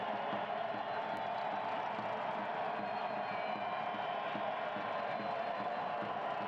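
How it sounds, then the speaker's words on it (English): Stadium crowd at a New Mexico United versus Reno 1868 FC soccer match, a steady broad roar of cheering and noise rising after prompting from the public address announcer, continuous and distant-sounding throughout. "Crowd being encouraged by the public address announcer to get into it, and they've obliged."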